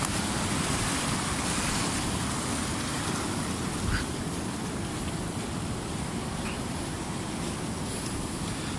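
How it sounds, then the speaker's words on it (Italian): Storm-driven sea surf breaking on a beach at Jesolo Pineta, a loud, continuous roar of waves mixed with buffeting wind noise on the microphone, with no speech. "Lasciamo pure che il mare usi la sua voce."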